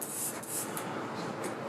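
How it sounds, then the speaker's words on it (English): A manual hand sprayer mists disinfectant inside a vehicle during decontamination, giving a steady, continuous hissing spray with soft rubbing texture, close and even throughout without pauses. "Same process with the manual hand sprayer. Make sure we spray it completely down."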